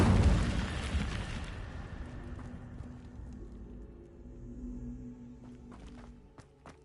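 A fiery blast from the Incendio spell in the Hogwarts Legacy video game bursts loudly at once, then decays into a rumbling crackle that fades over several seconds, with faint thuds near the end.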